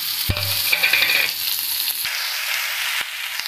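Finely chopped onions, about two large ones, sizzle and fry in a pan with other ingredients while being stirred, with steady loud frying hiss and scraping of the spoon up close.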